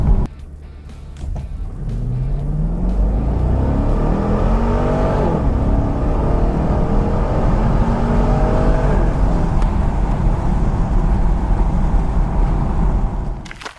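A 2012 Chevy Camaro 45th Anniversary Edition accelerates 0-60 mph, its engine revving loudly with rising pitch through several gear changes, close and continuous until it cuts off at the end.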